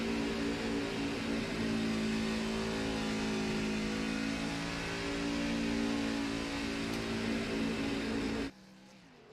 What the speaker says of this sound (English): he's burning that thing all the way down pit road, and that is a heck of a burnout